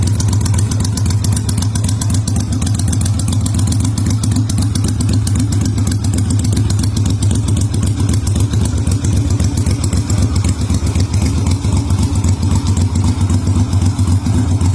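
Keeway 250cc twin-cylinder motorcycle idling close by, a steady deep, loud throbbing pulse with a Harley-like lope, running alone for the whole stretch.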